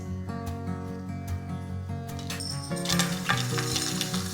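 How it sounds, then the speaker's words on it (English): Whole spices, bay leaf, cumin seeds, cinnamon sticks, peppercorns, cloves and star anise, sizzle steadily in hot refined oil in a home kitchen, with scattered sharp pops and crackles growing busier toward the end, close and fairly loud. "Our whole spices have started bursting and one fell on my face too."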